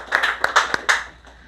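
A small group of workers claps briefly for a colleague at a tunnel safety training session, a short burst of a few close, uneven hand claps that quickly trails off.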